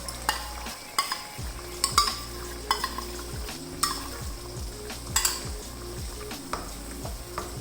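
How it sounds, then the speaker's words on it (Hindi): Chicken karahi with whisked yogurt being stirred and fried in a wok, a spatula scraping and knocking against the metal in a loose repeated rhythm over a continuous low sizzle, close up with no talking. "यहाँ पे मैं इसको अच्छी तरह भूनती जा रही हूँ"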